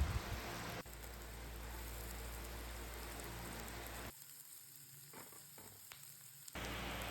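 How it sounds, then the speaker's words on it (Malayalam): Ginger, garlic, green chili and onion fry in hot oil in a pan, a steady hissing sizzle that drops away midway, leaving a few faint crackles, then returns at full strength. "ഇനി ഒരു പാൻ എടുത്തിട്ട് അതിൽ ഓയിൽ ഒഴിക്കണം അത് ജിഞ്ചർ ഗാർലിക് പച്ചമുളക് പിന്നെ കുറച്ച് ഉള്ളിയും കൂടി ഇട്ട് വറുത്തണം"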